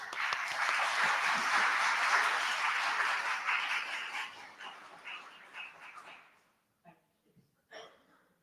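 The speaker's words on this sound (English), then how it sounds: "can we have a loud round of applause?" An audience at an interfaith iftar and Eid celebration bursts into loud applause that holds for several seconds, then thins out and fades to a few scattered claps, with a dog heard faintly.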